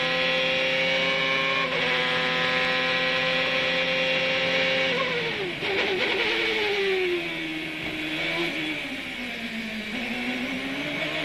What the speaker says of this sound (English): When the engine goes quiet there under braking, that's actually rear wheel lockup, stopping the rear tires, and that stops the engine momentarily